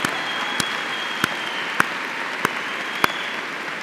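A graduation audience at the Rush University 2014 commencement applauds, a steady dense wash of clapping with a few sharper claps standing out.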